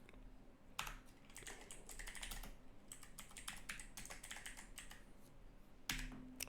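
Computer keyboard typing PHP code, rapid bursts of close, crisp key clicks with short pauses between runs, a louder keystroke near the start and another near the end, no talking.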